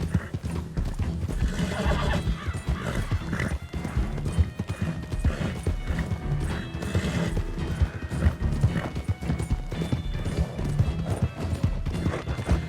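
A horse in Red Dead Redemption 2 clip-clops along with steady, loud hoofbeats, breaking into a whinny partway through, with game noise and no talking.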